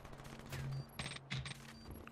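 Gunfire in Call of Duty Black Ops 3 search-and-destroy match on the Redwood map, a short burst of several rapid shots heard faintly at low volume.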